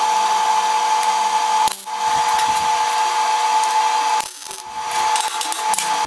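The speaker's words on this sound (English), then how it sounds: "I'm going to go ahead and drill the hole for my drain" A power drill whines steadily as it bores a drain hole through a solvent tank, briefly stopping twice before grinding on again, close and loud.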